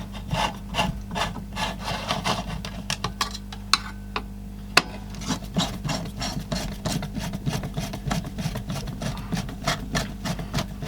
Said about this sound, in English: But I have to take all the screws out.